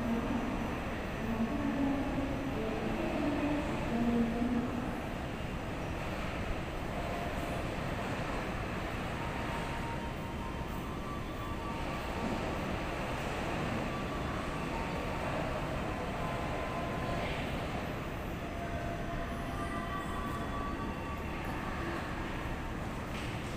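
A steady, low rumbling roar of a Whoosh high-speed train arriving at Padalarang station fills the space, continuous and fairly even throughout, with faint distant tones drifting over it.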